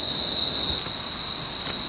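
A large cricket chirrs loudly nearby, a sustained high trill that eases slightly after the first second and continues without pause or voices.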